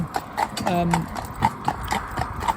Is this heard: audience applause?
no